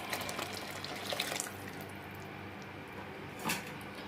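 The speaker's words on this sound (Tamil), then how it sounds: "இப்போ இதில் கொஞ்சம் தண்ணி சேர்த்துக்கலாம்." Water runs from a tap and is added to fish curry masala in a pan, a hissing stream that is louder at first and then settles into a softer steady flow, ending with a brief splashy burst.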